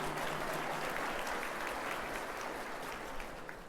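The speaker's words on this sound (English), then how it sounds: "You can clap." A room full of people claps steadily, a dense patter of applause that fades slightly toward the end.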